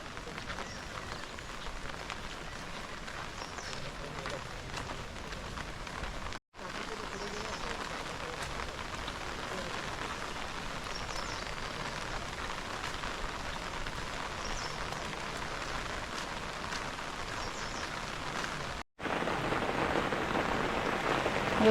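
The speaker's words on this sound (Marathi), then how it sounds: "आता पुन्हा पाऊस चालू झाला आहे" Steady rain hisses evenly for over twenty seconds, a soft continuous patter with no voices, briefly cutting out twice.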